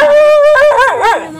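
A dog gives a drawn-out whining howl that breaks into a couple of sharp, wavering yelps, loud and close with no talk over it.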